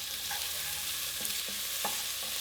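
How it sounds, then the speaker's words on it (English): Cinnamon and other spices stirred into onions frying in a pot for a Sri Lankan vegetable curry: a steady, bright hiss of oil with a few soft, scattered spoon knocks, close by and without talk. "Give it a good stir."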